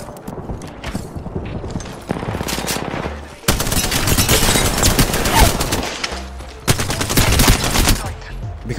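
Rapid bursts of automatic gunfire from the video game Voices From The Past, loud and close, in several dense volleys with short breaks between them.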